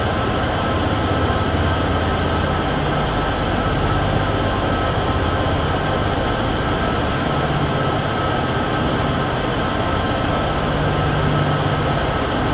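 Heavy freight locomotive at full throttle climbing a steep grade near Cheyenne in Train Sim World 6, a loud sustained diesel drone with rumbling wheels and a high steady whine, no talking.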